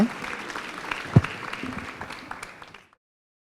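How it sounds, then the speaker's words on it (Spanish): An audience applauds at the close of a panel on social inclusion in higher education, a short burst of clapping with one sharp nearby clap, fading out after about three seconds. "Les brindamos un fuerte aplauso por todos los aportes que nos han hecho hoy día."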